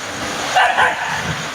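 Stray dogs bark around the grounds of Thiruvalla taluk hospital in Kerala, two or three quick yapping barks at middle distance over faint background hum.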